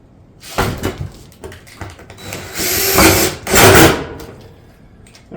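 A power drill drives fasteners into a barrel vault roof tile panel, giving several short whirring bursts of varying length with clunks and handling noise between them, close by.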